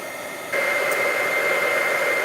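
A handheld heat tool for embossing powder blows a steady, loud whooshing hiss that steps up in strength after a brief quieter start and holds evenly without pause, during a card-making stamping workshop.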